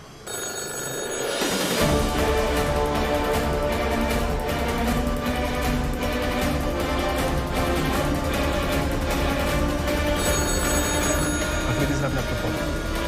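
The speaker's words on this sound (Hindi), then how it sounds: "अफरीदी साहब ने आपको फोन" A telephone bell rings continuously and loudly after a brief quiet start, its ringing held steady throughout.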